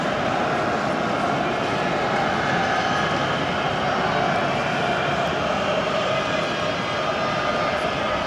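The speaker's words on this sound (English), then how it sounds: "Sounds like a jumbo jet roaring overhead right now." Jumbo jet roaring overhead during a World Cup football match in Frankfurt, a loud, continuous broadband rumble that holds steady for the full stretch.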